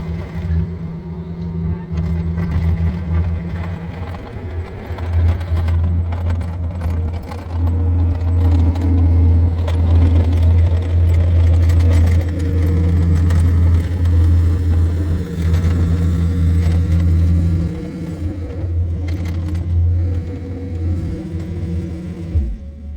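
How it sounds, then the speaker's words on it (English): Tractor doing dirt work for a shop build: a low, steady diesel rumble with rising and easing revs, plus metallic rattles and clinks from the machine moving close by. Faint voices come through now and then. "Now, we take the tractor, pull the pile of dirt,"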